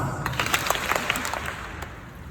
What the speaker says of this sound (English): If I have your permission to coach you, clap once